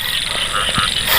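Frogs croak in a dense chorus across rice fields at night in rural Thailand, several short calls rising over a constant high-pitched insect drone, close and loud.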